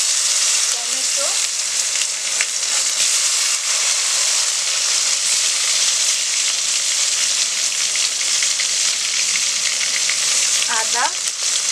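Bengali five-spice seeds and tomato sizzle loudly in hot oil for a fish curry, a dense unbroken frying hiss with faint stirring and a couple of short voice fragments in the background.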